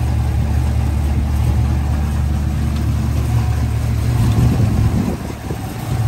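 A 1973 Ford Mustang Mach 1 with a 351 Cobra Jet V8 idles smoothly and quietly, a steady low rumble and hum that holds even throughout, with a slight swell near the end.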